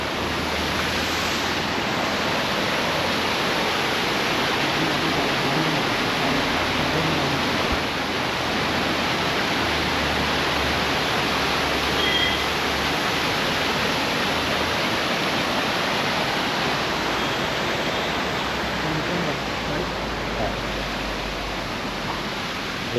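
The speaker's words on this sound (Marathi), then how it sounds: "हे धबधब्याचं दृश्य तुम्हाला मी पुन्हा एकदा जवळून दाखवतो" A powerful waterfall at Kumbharli Ghat roars steadily and loudly, a dense unbroken rush of falling water with no voices.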